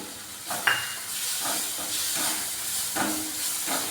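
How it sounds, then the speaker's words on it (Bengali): Egg curry masala with a little sauce added hisses and steams in a pan, a soft continuous sizzle with a few brief stirring scrapes and a sharp clink near the start, close by. "সস দিয়ে একটু ভেজে নিচ্ছি"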